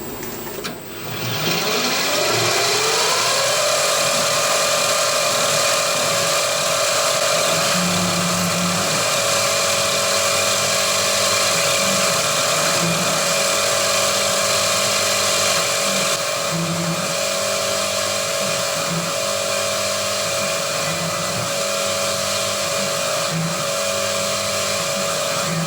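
A CNC machine spot drills holes in a crankcase for a Titan .60 glow plug engine, a steady loud whining spindle hum with a repeating pattern of short cutting pulses, no talk.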